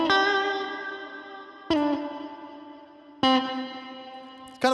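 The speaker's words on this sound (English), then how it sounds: "It's kind of a pulsating reverb," Electric guitar played through a Line 6 HX One pedal on its Searchlights pulsating reverb with a touch of overdrive: three struck chords, each ringing out and decaying in a shimmering wash before the next, heard alone and close.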